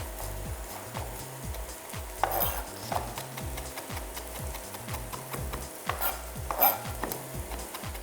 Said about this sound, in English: Give our onions a quick stir and our garlic.